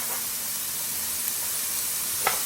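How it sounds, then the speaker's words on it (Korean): Onion and green onion stir-frying for Korean fried gochujang, giving a steady close hiss of sizzling that runs throughout, with one faint clink of utensil near the end. "양파하고 파부터 먼저 볶겠습니다"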